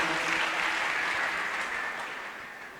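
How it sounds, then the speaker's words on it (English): A church congregation claps their hands together in a dense, loud burst of applause that fills the room and gradually eases off, with no talking over it. "Clap your hands."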